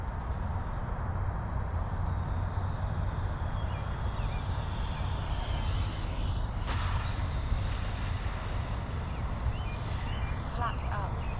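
A Flyfans L-39 64mm electric ducted fan RC jet on 6S power flies overhead with a steady, loud whooshing fan whine. The pitch shifts as it passes and circles, and there is no break in the sound.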